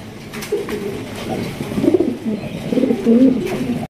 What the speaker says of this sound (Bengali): এখানে রয়েছে আরো একজোড়া চমৎকার লাহোরি কবুতর